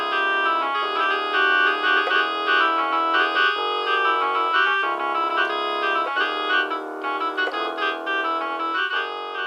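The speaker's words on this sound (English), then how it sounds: "The oldest one I can remember I played on this little synth." A bright synthesizer plays a quirky, bouncy melody of sustained tones shifting every second or so, clean and close, with no voices.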